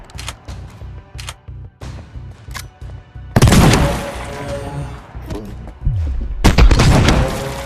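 Gunfire rings out in a VR shooting game: a run of soft clicks and thumps leads into loud, booming bursts of shots with rumbling tails, close and heavy, with a second loud burst near the end.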